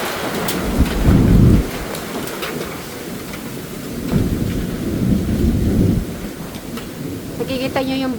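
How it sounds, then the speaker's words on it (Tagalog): Heavy rain pours steadily through a thunderstorm while deep thunder rolls rumble in two loud swells. A voice briefly speaks near the end. "Ang lakas. Ayan. Woo! Ulan na."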